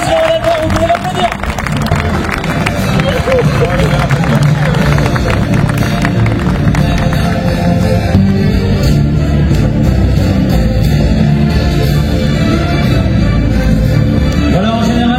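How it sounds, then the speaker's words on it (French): An audience at a national Limousin cattle show in Libramont applauds the champion bull, with steady, dense clapping and crowd hubbub throughout, mixed with an announcer's voice and arena background noise. "Félicitations à la gloire, vous pouvez l'applaudir."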